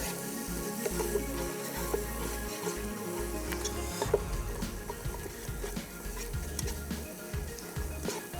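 Masala sizzles and roasts in a pan, with constant frying crackle, scraping spoon strokes and a few light clinks against the metal, all at close range and without talk.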